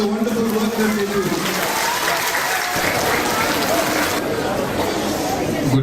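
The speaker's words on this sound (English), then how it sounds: "Please clap for your teachers for the wonderful work that they do." An audience applauding teachers at a Teachers' Day celebration, dense continuous clapping from a large crowd filling the room, with chatter and voices mixed in.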